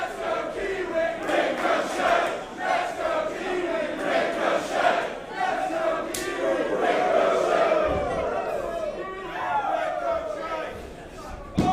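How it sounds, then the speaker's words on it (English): Capacity wrestling crowd at the O2 Academy in Leicester, a rowdy mass of cheers, chants and shouts rising and falling throughout, with commentary over the top. "a capacity crowd here in the O2 Academy"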